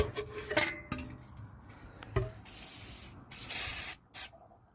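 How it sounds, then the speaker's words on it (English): WD-40 sprayed onto a Toyota Yaris hand brake cable, preceded by a few metallic clinks and taps, then two close hissing spray bursts, one long and one short. "again I can apply plenty of WD-40"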